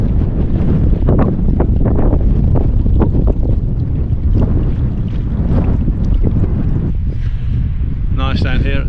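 Strong wind buffets the microphone aboard a small sailboat out on a lake, a loud continuous rumble with gusty bursts, and a voice is briefly heard near the end.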